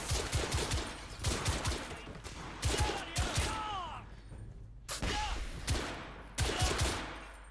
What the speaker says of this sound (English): Oh, and we're under fire.